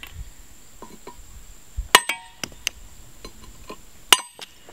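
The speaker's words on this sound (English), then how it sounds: "I just hit them with a chisel here to pop that loose" A steel chisel taps sharply against old concrete-crusted retaining wall blocks outdoors, a few scattered bright clinks and knocks with pauses between, close and crisp over a faint insect buzz.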